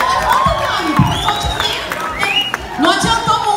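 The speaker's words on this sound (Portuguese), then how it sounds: "Olha aí, aplausos!" A lively audience at the Prêmio Influenciadores Digitais 2018 awards event in São Paulo cheers, whoops and claps throughout, with overlapping voices and shouts filling the room in a steady, loud crowd roar.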